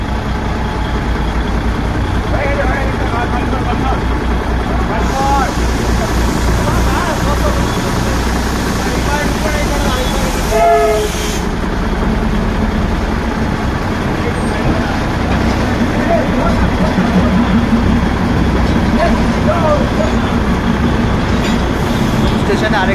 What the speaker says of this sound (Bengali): স্টেশনে আরেকটা ট্রেন চলে এলো।